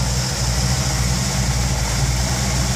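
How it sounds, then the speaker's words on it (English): A 1963 Chevrolet Impala with a 409 engine, Edelbrock carburetors and factory air conditioning idles steadily, a loud, close, even rumble with no talk. "Pump the gas 2 or 3 times, sits there and idles nice."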